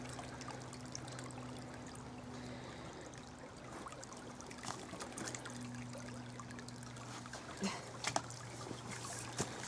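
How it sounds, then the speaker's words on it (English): Creek water flows and trickles softly and continuously at a low level, with faint steady tones and a few small splashes toward the end. "You can see the water is flowing"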